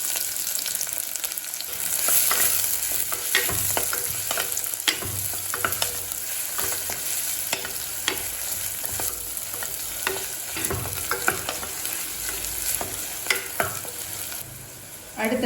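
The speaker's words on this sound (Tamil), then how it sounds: "குக்கரில் தேவையான அளவு எண்ணெய், 4 பல் பூண்டு, 2 வெங்காயத்தை சேர்த்துக்கலாம்" Garlic cloves and onions fry in oil inside a pressure cooker, a steady loud sizzle with intermittent scraping stirs and clinks throughout.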